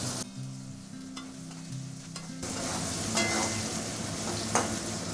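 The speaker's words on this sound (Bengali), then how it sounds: "পেঁয়াজটা এবার ভেজে নেব" Chopped onion frying in mustard oil with whole cardamom, cloves and cinnamon, a steady sizzle that grows louder and busier as stirring picks up, with occasional scraping clicks.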